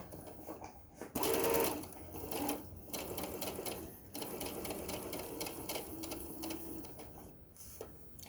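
A sewing machine stitching a tote bag seam with a 5/8 inch allowance, a continuous rapid mechanical whir running in bursts between pauses where the foot pedal stops.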